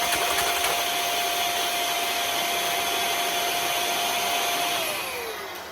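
An electric air duster blows steadily, a loud, close, even whoosh with a high motor whine that holds for about five seconds and then winds down at the end. No one talks.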